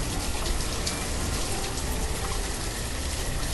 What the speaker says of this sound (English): Rain isn't helping the temperature stay up.